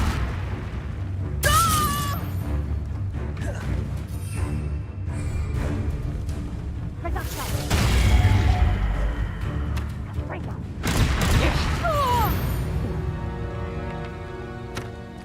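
Repeated Confringo blasting spells from Hogwarts Legacy burst loudly at intervals, each a sharp crack and booming explosion with shattering debris, layered over a busy game soundtrack.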